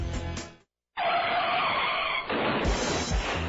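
Tires screech as a car skids in a sharp sound effect for a radio advert for a paint and body shop. A brief burst is followed by a silent gap, then a loud, sustained squeal with harsh grinding noise toward the end, and nobody speaks.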